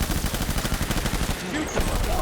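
Rapid gunfire erupts in the video game Death Stranding on PS5, a dense, continuous volley of overlapping shots that stays loud and steady without a break.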